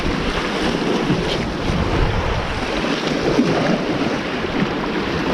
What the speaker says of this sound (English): Oh, it's windy. It's very windy.